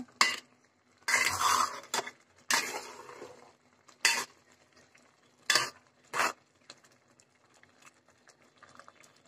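Polao rice simmering in a pot is stirred in several short, separate bursts of scraping and rustling, with a faint bubbling in the quiet gaps between them.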